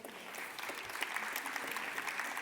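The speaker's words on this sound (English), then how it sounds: "Please, round of applause." Conference audience applause at a WorldSkills panel, a soft, steady patter of many hands heard at a distance, quiet and continuous for the whole short span.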